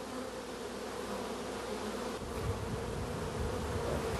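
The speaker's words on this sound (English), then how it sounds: "That's a brand new bee emerging for the first time." Honey bees buzzing on the comb, a dense, continuous hum of many insects, steady and close, with a slight low rumble in the second half.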